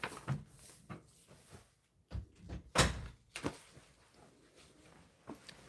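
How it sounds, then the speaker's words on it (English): A door bangs shut with a sharp, loud thunk midway through, surrounded by softer bumps and knocks of doors closing in a house. "Yeah, shut our doors so can keep the noise down on you."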